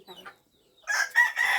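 A rooster crows near a fishing spot, a short bright call heard close after a brief faint cluck and a moment of quiet.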